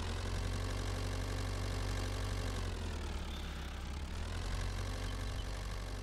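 A Unimog engine idles in Farming Simulator 22, a steady low rumble with a slight dip in pitch midway, running alone without talk.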